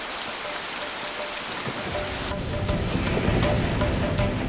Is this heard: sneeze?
no